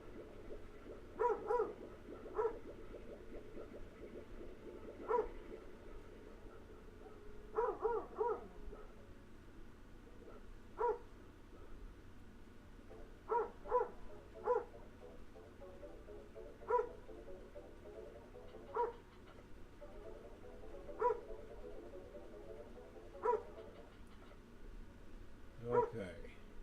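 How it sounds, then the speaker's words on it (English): A dog barks loudly nearby in short single and doubled yaps spaced a few seconds apart, over the background sound of a Slime Rancher game session. "My apologies once again about the loud dog."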